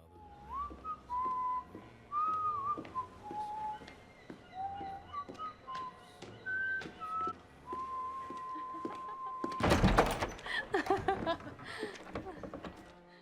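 A man whistles a slow, mournful tune, clear melodic notes rising and falling over about nine seconds, followed by a burst of louder clattering and thumps near the end.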